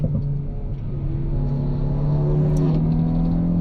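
A 2025 Hyundai i20 N on a track rumbles and hums steadily with a mid-pitched engine drone, its pitch shifting slightly as it slows for a tight corner and drops into second gear with rev matching.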